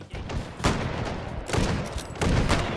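Heavy .45-70 rifle shots in the VR game Hot Dogs, Horseshoes & Hand Grenades: loud booming reports at roughly 0.6, 1.5 and 2.2 seconds, each with a long reverberant tail, among constant background game noise.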